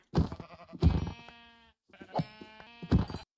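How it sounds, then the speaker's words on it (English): Sheep in the Minecraft video game bleat twice, each a loud, close, wavering synthetic baa followed by a brief pause, with no talk over them. "we'll proceed to slaughter all these sheep"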